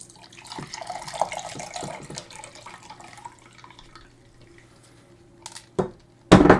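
Water running and splashing as it is poured out of a shaken toy bottle, a continuous trickle with gurgles, then a pause before sharp splashes and clatter.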